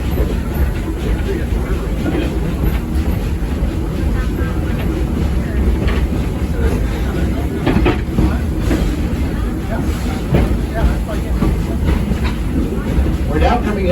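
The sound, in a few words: train ride, Edison railroad train moving on rails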